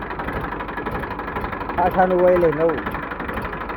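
A 2015 Eicher 380 tractor engine idles with a steady, low, even rumble beneath someone talking nearby throughout.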